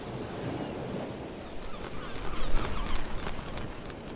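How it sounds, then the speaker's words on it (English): Geese honking in the game Endless Days, a PSX-style lighthouse horror game, heard over a steady wash of surf and wind, the calls growing louder and busier midway through. "Nothing weird, just birds."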